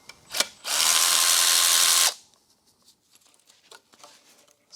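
A power tool spins out a head bolt on a Porsche 996 M96 engine during teardown: one loud, steady whir of about a second and a half, close by, after a brief clank, then quiet workshop handling noises.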